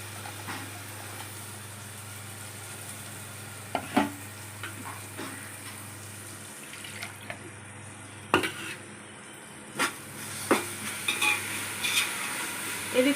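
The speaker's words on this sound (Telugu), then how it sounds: "ఇది అల్లం వెల్లుల్లి, పచ్చిమిర్చి, కొత్తిమీర, పుదీనా పేస్ట్ అండి. గ్రీన్ పేస్ట్ లాంటిది వేసేస్తున్నాను." A green paste of ginger, garlic, green chili, coriander and mint frying with onions in a pot for chicken biryani, with a steady low sizzle and occasional sharp stirring clinks and scrapes of a utensil.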